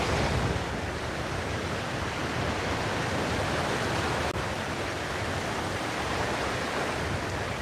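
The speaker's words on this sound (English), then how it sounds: "With the waves in the distance" Ocean waves washing onto a beach as a steady, broad surf roar with a continuous rushing wash, fairly loud and without voices.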